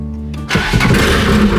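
A Nissan KA24E engine with headers only and no exhaust fitted cranks briefly and then fires into a loud, raw, close idle rumble, with no one speaking.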